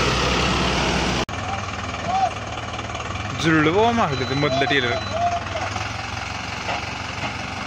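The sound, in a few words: tractor pulling sugarcane trailers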